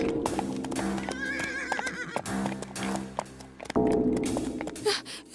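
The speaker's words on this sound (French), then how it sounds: "C'est le son des chevaux de mécréants." Horses of unbelievers in an animated tale neighing loudly several times over a rapid clip-clop of hooves, close and forceful, with a few thumps under the galloping.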